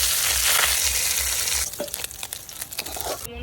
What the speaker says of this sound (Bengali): তেল গরম হয়ে গেছে, মাছগুলো ছেড়ে দেবো।